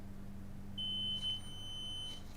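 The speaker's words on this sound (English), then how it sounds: "Probably going to get a beep here." A multimeter beeps in continuity mode while probing a MacBook logic board: a steady, clear electronic tone of about one and a half seconds, close by, over a low electrical hum.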